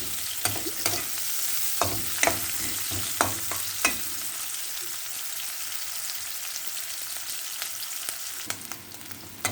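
Bitter melon fries in a hot pan with a steady sizzle, while a utensil scrapes and clacks against the pan in irregular stirring strokes, close up, with no talk.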